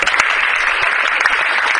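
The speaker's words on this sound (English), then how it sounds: "We need to give a round of applause to the Irish team because they came all the way" Brief, close burst of applause from a debate audience for the visiting Irish team, dense clapping lasting under two seconds.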